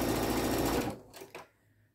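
Sewing machine stitching through thick, multi-layered fabric for a welding cap, running steadily and loud for about a second before stopping, followed by a couple of faint mechanical clicks.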